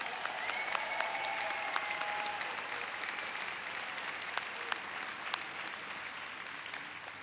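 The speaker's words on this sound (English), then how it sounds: "A big round of applause for Dr." An audience applauds Dr. Myron Wentz, founder of USANA, with steady, even clapping that holds at a moderate level throughout, somewhat distant in a large hall.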